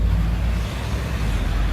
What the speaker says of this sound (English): So many car engines.